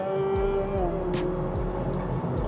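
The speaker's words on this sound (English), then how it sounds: "there's a kind of like simulated gear shift where the noise also diminishes when you upshift to a gear" Simulated engine note of a Honda Civic RS e:HEV hybrid sedan: a steady, rising drone that drops in pitch at each faked upshift, about four evenly spaced steps, heard from inside the cabin.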